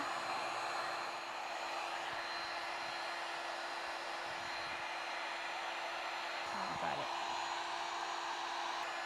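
Steady roaring blast of a heat gun heating watercooling tubing for bending, constant and close throughout, with a brief spoken remark near the end.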